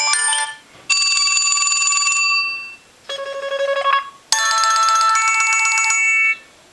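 Several stock ringtones from a Boost Mobile LG Venice phone play back to back, each a loud, bright chiming melody separated by short pauses.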